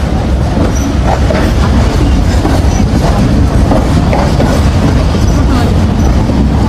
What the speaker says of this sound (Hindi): और हमारी ट्रेन अभी आहिस्ता आहिस्ता से प्लेटफार्म पर से गुज़र रही है।